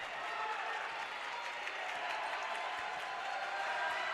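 A sellout crowd in a school gymnasium at a high school basketball game, a continuous roar of cheering and clapping, fairly distant and steady throughout.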